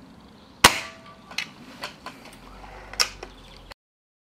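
An Emei TS-45 air rifle fires over a chronograph with a sharp, loud crack, followed by several fainter mechanical clicks and knocks spread over the next few seconds, close and without speech.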